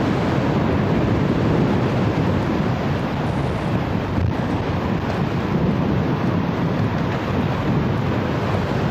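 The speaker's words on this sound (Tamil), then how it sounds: "காற்று ஆலையை தள்ளுது." Strong winds from Cyclone Fengal buffet the microphone at Chinna Neelangarai beach, with rough surf crashing onto the shore in a loud, continuous roar and no pauses.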